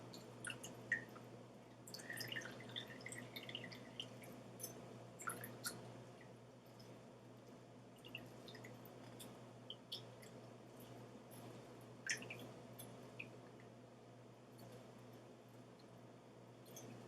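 Elderberry juice drips and squishes out of strained dried elderberries, faint wet little drips and squelches scattered irregularly over a low steady hum, fairly quiet and close, without speech.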